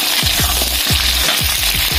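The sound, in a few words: frying shallots, chilies, candlenuts and garlic in a pan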